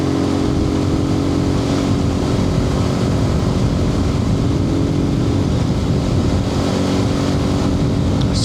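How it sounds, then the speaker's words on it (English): A Suzuki TU250X motorcycle on an evening ride, heard through a helmet microphone: a loud steady engine drone blended with heavy wind rush, unbroken the whole time, no voices. "TU250, great bike."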